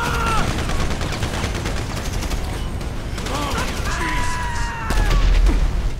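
Dense rapid gunfire and impacts crackle through a GTA V firefight on PS3, with a heavier boom near the end and voices calling out.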